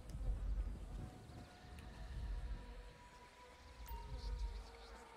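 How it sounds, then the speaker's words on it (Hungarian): A fly buzzes in a GTA 5 horror mod, a faint, wavering insect drone over a low rumble, rising and falling in quiet swells. "Ilyen légy meg ordibálás hangok"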